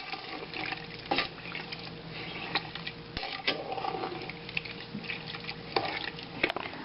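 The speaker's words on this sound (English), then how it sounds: "our relish has come to a boil now" A pot of zucchini relish cooks over high heat, with a dense bubbling, sizzling texture and occasional sharp clicks and knocks from stirring, close up and steady, with no voices.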